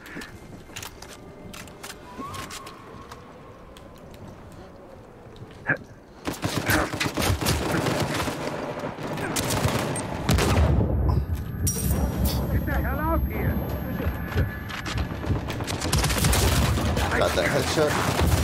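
Gunfire in an Uncharted 4 multiplayer match, with scattered shots early and then dense rapid bursts and fusillades from about six seconds on, loud and continuous, while a player talks over the action.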